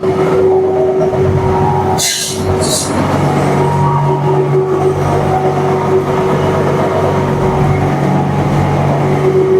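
A briquette production machine's engine runs under load as a loud continuous rumble with a steady hum, close, with a brief clatter partway through.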